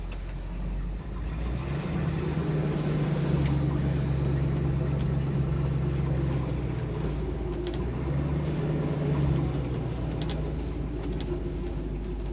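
A 1967 Chevy Camaro convertible on a test drive, its engine and exhaust giving a steady low rumble that swells around two and eight seconds, heard from inside the car with no talking.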